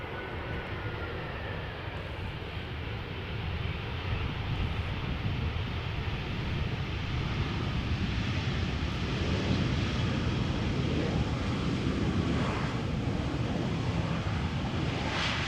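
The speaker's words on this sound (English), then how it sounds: "The first queen of the day landing on the Polderbaan." A Boeing 747 landing on the Polderbaan runway at Amsterdam Schiphol, a broad, rumbling jet roar heard from a distance that slowly swells, mixed with wind buffeting the microphone and no voices.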